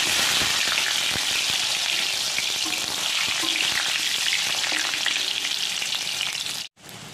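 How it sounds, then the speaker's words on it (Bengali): Boiled potatoes fry in hot oil with a dense, loud, continuous sizzle and crackle, a brief dip near the end before the sizzling resumes. "এরপর যে সিদ্ধ আলুগুলো ছিল সেগুলো এই তেলে ভেজে নেব।"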